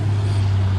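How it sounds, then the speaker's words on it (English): A loud continuous rumbling roar with a deep steady drone of heavy traffic rushing past nearby on the Massachusetts Turnpike. "but the traffic behind me,"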